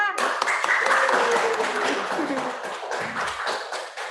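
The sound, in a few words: audience applause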